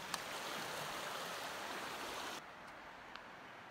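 Stream water on a Colorado Trail mountain segment rushes steadily as a broad, even hiss, dropping slightly in level partway through, with no voices.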